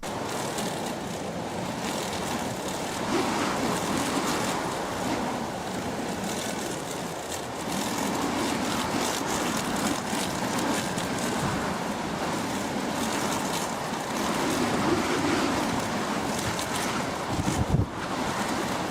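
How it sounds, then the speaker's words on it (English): Strong wind roars steadily as a plane lands sideways at an airport in England, a constant rushing blast with buffeting gusts, heavy and close, and no voices. "This plane was trying to land at an airport in England and had to land sideways because of the strong winds."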